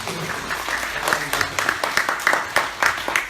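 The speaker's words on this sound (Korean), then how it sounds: "박수 한번 주세요" Audience applause at a lecture comes through as a short burst of irregular claps, with a voice partly audible over it.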